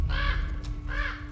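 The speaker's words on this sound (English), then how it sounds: "Raven sound intensifies." A raven in God of War Ragnarök gives two loud, harsh caws about a second apart, close and clear over a low rumbling game background with a steady hum.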